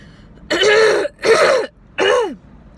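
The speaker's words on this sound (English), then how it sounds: "I was coughing and it's still coming out right now." Three harsh, throaty coughs in quick succession, close and loud, with short pauses between them.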